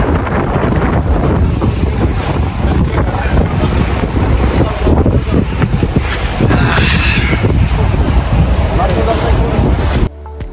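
Boat ride on open water in Doha, with strong wind buffeting the microphone in a loud continuous roar over splashing water and faint voices.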